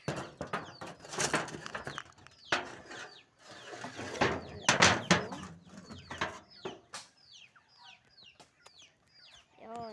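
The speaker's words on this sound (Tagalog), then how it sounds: "magpapakain tayo ng kalapati" Pigeons flutter and coo while being fed, around scattered clicks and shuffling, with soft bird calls growing clearer as the busy scratching settles down.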